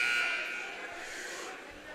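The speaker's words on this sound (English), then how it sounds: "There is the buzzer" A buzzer sounds at a junior varsity hockey game, a loud, sustained electronic tone lasting about two seconds and fading slightly toward the end over the arena's background noise.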